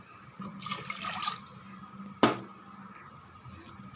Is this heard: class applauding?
no